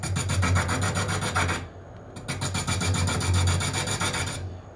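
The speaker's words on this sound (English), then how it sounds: "What's the grit stone that you just used? It's an 800 carbide." A lathe tool being honed on an 800 grit carbide stone gives a steady, close, loud gritty rasping. The scraping runs in two long bursts with a brief pause between them, and nobody talks.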